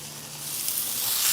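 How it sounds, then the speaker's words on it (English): Ribeye steaks sizzle in an olive and avocado oil blend on a Blackstone griddle, a steady close-up hiss that builds slightly louder over the moment, with no talking. "You hear that sizzle? You want to hear that sizzle."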